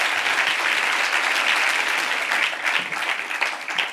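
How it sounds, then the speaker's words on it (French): An audience in Marseille claps continuously in a sustained round of applause that gradually thins and becomes more scattered toward the end. "Maboula Soumaoro et Nadia Yala Kisukidi, qu'on peut applaudir."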